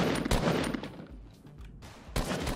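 Hunting rifle shots in a video game crack out loud and sharp, with a few distinct reports over busy game noise and a final burst near the end.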